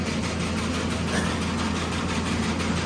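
A grain winnowing machine runs with a steady, dense mechanical drone and faint rhythmic pulsing, close and unbroken, no talking over it.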